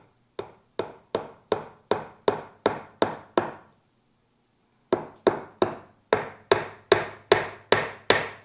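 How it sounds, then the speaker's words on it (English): Hammer strikes nail into a wooden birdhouse in two bursts, eight rapid even knocks, a pause of over a second, then about eight more, close and sharp with no voices. "how close my thumb is to where you're nailing"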